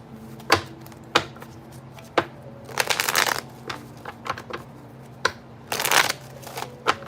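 A deck of tarot cards is shuffled by hand in bursts of riffling and snapping, with sharp single flicks between two longer rustling runs, close and fairly loud, with no talking.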